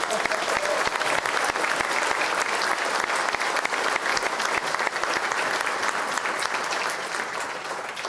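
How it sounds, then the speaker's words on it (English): An audience at an evening VIP reception for the Murrieta State of the City breaks into steady, full applause, dense clapping held at even loudness throughout with no voices standing out. "Let's give them all a round of applause."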